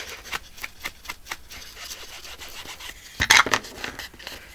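A hand rubs down the cut edge of a paper envelope journal, giving repeated soft dry scraping strokes in an uneven rhythm, close by, with a louder cluster of rubbing near the end.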